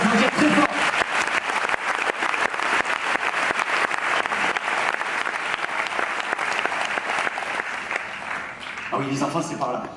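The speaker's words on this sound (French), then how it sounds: "On peut les applaudir très fort." Loud, sustained audience applause fills a festival opening ceremony hall, dense clapping running steadily for ten seconds and tapering slightly at the end, with a faint voice coming in near the close.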